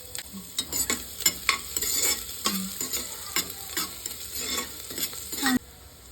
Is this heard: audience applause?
no